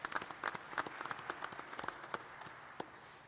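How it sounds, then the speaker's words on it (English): Scattered, fairly light applause at a food security seminar, with individual sharp claps standing out and thinning toward the end. "Big applause indeed."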